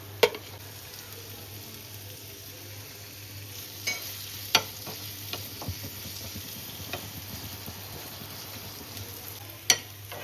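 Chopped tomato and grated ginger fry with sautéed garlic in a pan for mung dal, a quiet low sizzle under a steady hum, punctuated by a few sharp spoon taps and scrapes; no talking.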